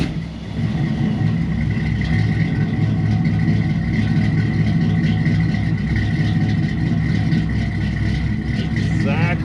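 A car fitted with a custom stainless single-pipe exhaust and a chambered Flowmaster-style muffler runs with a deep, steady rumble, close and loud throughout, the tone lifting and falling slightly as the engine holds around idle.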